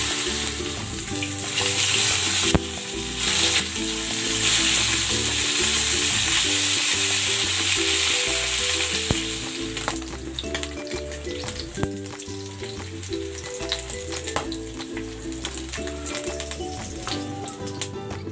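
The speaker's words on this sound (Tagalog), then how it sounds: "Ipapangrill ko muna itong liyempo." Pork belly seasoned with salt and pepper sizzles steadily in hot oil in a pan, loud crackling frying at first that settles into quieter sputtering with occasional utensil clicks.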